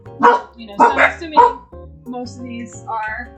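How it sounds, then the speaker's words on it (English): Several dogs bark in the background of a home setting, a few sharp barks in a quick cluster, moderately loud beneath a person talking nearby. "Sorry about the dogs barking in the background."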